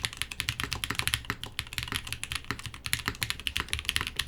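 Fast typing on a TKD Cycle7 mechanical keyboard fitted with case foam: a dense, steady stream of close, soft clacks with deeper thocks mixed in, no voices.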